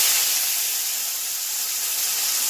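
Potato pieces frying in hot oil for a home-style Bengali kalmi greens dish give a steady, close, even sizzling hiss that holds at one level throughout, with no talking.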